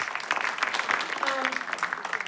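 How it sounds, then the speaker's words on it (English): Applause from a crowd, steady clapping throughout with voices mixed in. "Give everybody a round of applause"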